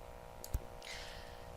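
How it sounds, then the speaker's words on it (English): A single sharp mouse click on a computer, near and brief, standing alone against a faint steady background hum. "be sure to click the save button"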